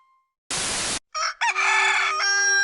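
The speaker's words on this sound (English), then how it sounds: "Are you tired of that pesky rooster waking you up in the morning?" A rooster crows loudly and close, one long drawn-out cock-a-doodle-doo after a sharp burst of noise and a short silence.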